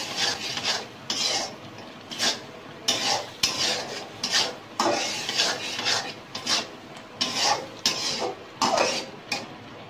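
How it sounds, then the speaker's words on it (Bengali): Lentils with turmeric stirred and sautéed in a pan produce rhythmic scraping strokes of a spoon against metal, about a dozen repeated rasps over a soft sizzle, close up and alone. "হলুদ গুঁড়া দিয়ে দিলাম, ডালটা একটু কষিয়ে নিচ্ছি।"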